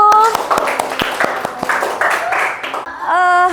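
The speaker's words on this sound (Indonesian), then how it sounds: "Tepuk tangan dulu." Schoolchildren in a classroom break into a burst of rapid applause, close and lively, which ends as a chorus of young voices rises at the close.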